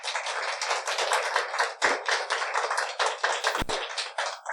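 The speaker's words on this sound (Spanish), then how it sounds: "Un aplauso a Jesús" A church congregation claps in a dense, steady burst of many hands, loud and continuous for several seconds with no talking over it.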